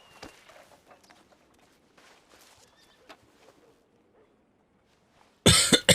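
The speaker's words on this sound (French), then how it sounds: "t'excuses pas de tousser" Near-silence with faint scattered rustles, then a burst of loud, harsh coughing close by at the very end.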